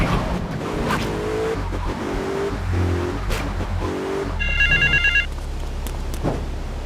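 A payphone in Grand Theft Auto III rings in a short, bright electronic trill over the low rumble of car engines and street ambience, clear and fairly close, with no talking.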